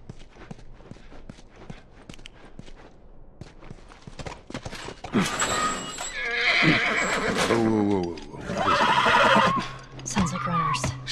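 Horse in The Last Of Us video game neighs loudly near the middle of the clip and again later, with clip-clop hooves, game sound effects and a voice in the background.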